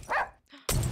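Short barks from the dog in Russian Subway Dogs, a cartoon subway video game, two loud bursts split by a brief quiet gap.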